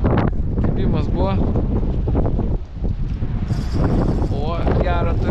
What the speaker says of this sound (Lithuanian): Bet va, vėl sustiprėja čia vėjas, tai pučia per šoną